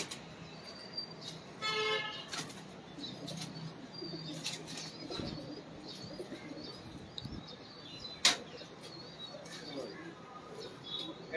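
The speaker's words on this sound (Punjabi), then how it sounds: "ਇਹ ਵੀ ਜੈਨੂਇਨ ਇੰਡੀਅਨ ਕਬੂਤਰ ਨੇ" Genuine Indian pigeons coo softly amid a brief flutter of wings, with faint chirps and scattered bumps around a quiet outdoor loft.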